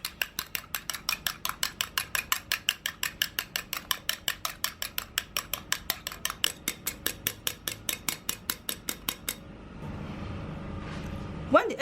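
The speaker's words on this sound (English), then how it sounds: "Then you whisk it. You keep doing this until it's foamy and white." Egg white is whisked until foamy in a rapid, even series of about forty close, clinking strokes against a bowl, followed by a quieter stretch of faint handling noise.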